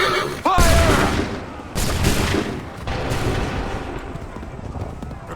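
Muskets fire in a ragged volley on command during a battle in Assassin's Creed III, with loud crackling bursts in several waves and shouting voices briefly over the din.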